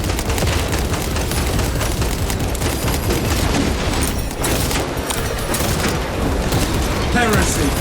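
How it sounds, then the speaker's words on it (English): A shock grenade bursts in Space Marine 2 amid a dense, loud wall of battle noise, with booms and gunfire blending into continuous rumbling chaos. "Shock grenade out!"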